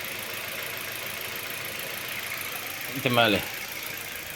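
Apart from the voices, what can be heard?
warmed-up car engine idling after repair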